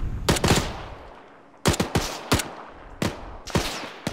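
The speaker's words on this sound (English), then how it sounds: "it doesn't sound like we have as many Americans firing back at us as we're firing at them" Gunfire exchange in the Arma 3 video game, set in a Second Korean War scenario: loud bursts of automatic fire in several clusters with short gaps, echoing off into the distance.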